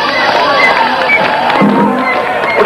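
Concert crowd at a 1990 open-air rock festival show in Finland, a dense wash of clapping, cheering and shouting voices filling the whole moment steadily and loudly, with no lulls.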